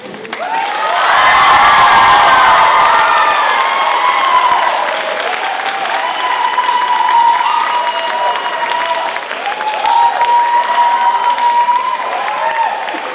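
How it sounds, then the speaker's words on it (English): Loud, full round of applause mixed with cheering and whoops from a school drama closing-night theater audience, swelling early and then holding steady to the end. "you can hear from that round of applause just how dearly beloved she is"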